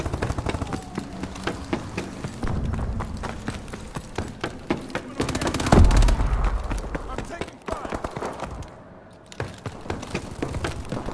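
Rapid gunfire in Call of Duty: Advanced Warfare, dense bursts of shots crackling over a battlefield with a heavier blast midway, while voices call out between the volleys.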